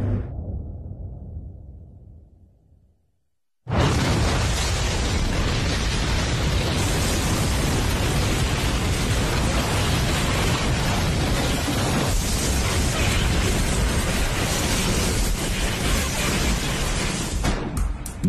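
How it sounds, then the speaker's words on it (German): A bomb explosion at a building in Oklahoma City, heard as a sudden, very loud broadband blast that cuts in after a fading low rumble and a brief silence, then roars on as a sustained dense wash of noise. "was wirklich passiert ist, als die Bombe explodierte"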